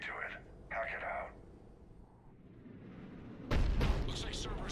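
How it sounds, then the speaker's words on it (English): Heavy Cerberus cannon from Mass Effect booms late in the scene, a loud burst of blasts after a stretch of quieter combat ambience with a voice speaking earlier. "Looks like Cerberus got that cannon operational, Commander. I'll go back up, get a read on what they're shooting at."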